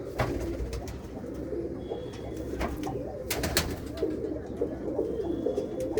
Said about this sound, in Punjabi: ਆਪਣੀ ਸ਼ਾਹ ਆਖੀ ਜੂੜੀ ਵਾਲੇ ਕਬੂਤਰ ਆ